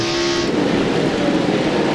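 NASCAR race cars roar around the Richmond track at the 1996 Miller 400, a loud, continuous engine drone close at hand. A brief higher whine fades early, and no voices are heard.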